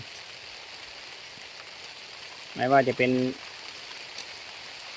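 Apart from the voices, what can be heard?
rain falling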